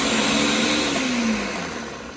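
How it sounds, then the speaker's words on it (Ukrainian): A steady motorized whir fills the clip, loud and continuous with a slowly falling pitch, as a kitchen blender mixes beet salad ingredients with black pepper. "І все на блендері будемо мішати."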